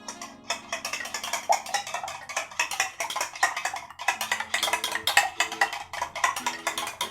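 Eggs for a fluffy omelette whisked fast in a bowl, producing a rapid, steady run of light clinking and tapping strokes against the bowl, close by, with soft background hum and no talk over it.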